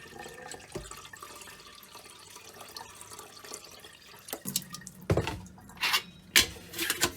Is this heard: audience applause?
no